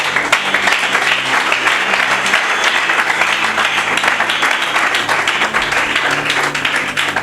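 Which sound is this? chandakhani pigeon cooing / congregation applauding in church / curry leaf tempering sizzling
congregation applauding in church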